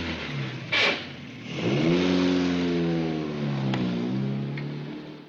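A vintage Fiat 124 Spider's engine revs up after a short burst of noise, its pitch climbing smoothly, then easing and rising again, loud and close, with a faint background hiss.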